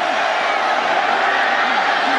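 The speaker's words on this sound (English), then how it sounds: "This crowd has come to life." Football stadium crowd at a Boise State game roaring after a touchdown, a dense, sustained wash of cheering under a commentator's voice.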